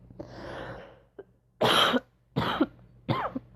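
Several sharp coughs, close and loud, following a softer rasping throat-clear at the start; three separate bursts with short pauses between them.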